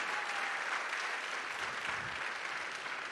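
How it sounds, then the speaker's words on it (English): An audience applauds actors after a Shiv Jayanti drama about Rana Pratap, a steady wash of many hands clapping at a moderate distance, continuous and even throughout. "Please give them a big round of applause."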